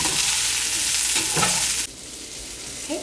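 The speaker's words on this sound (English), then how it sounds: "Let those cook for a little bit till they get nice and translucent." Onions and vegetables for spring rolls frying and being stirred in a pan, a steady close sizzle with a few scraping stirs, dropping quieter partway through.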